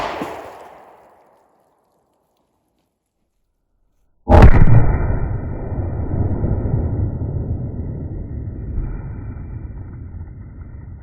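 A single sharp, loud gunshot from a .40 S&W pistol firing Browning X-Point Defense ammunition, a sudden close blast followed by a long ringing, rumbling tail; a faint fading noise precedes a brief silence before the shot.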